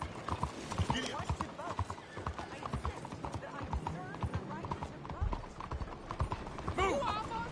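Horse hooves clip-clop at a gallop in Red Dead Redemption 2, with a whinny near the end and game voices talking throughout.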